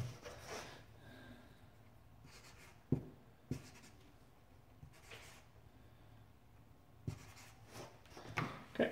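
Pen scratching out figures on a paper chart in a quiet workshop, soft intermittent strokes with a few sharper taps, close and faint with no talking.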